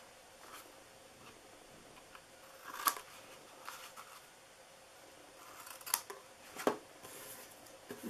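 Scissors trimming paper for a DIY pizza-slice gift box: a few crisp, close snips spread over a low, steady room hiss, with no talking.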